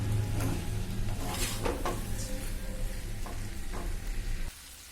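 Aloo dum potatoes in spiced masala frying loudly in a pan, a dense close sizzle with periodic scraping strokes of the stirring spoon, which cuts off abruptly near the end; nobody speaks.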